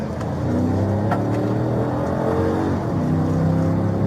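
A car speeds through medium traffic during a police chase at over 100 mph, giving a steady, loud engine roar that rises slightly as it accelerates, with no talk.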